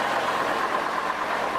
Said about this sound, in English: the little tipper just going past us, and it's the Bedford TS with the 330 diesel